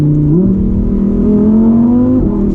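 A Lamborghini Huracan Evo's engine revs loud and close from inside the car, a sustained roar climbing steadily in pitch before a quick shift drop, with no talk over it.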